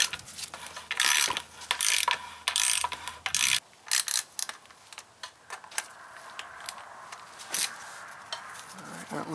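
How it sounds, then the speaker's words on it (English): Bursts of ratchet clicking as a socket ratchet loosens the carburetor mounting bolts on a 17.5 hp Briggs & Stratton Intek engine, fast close ratcheting strokes in short runs broken by pauses and a few lighter clicks. "You can use a ratchet wrench as well, but we'll use an actual ratchet"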